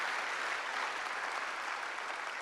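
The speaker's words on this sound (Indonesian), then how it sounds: "Tepuk tangan selagi untuk Tuhan Yesus yang luar biasa." Church congregation applauding during a sermon, a steady wash of many hands clapping at moderate distance, fairly quiet and unbroken throughout.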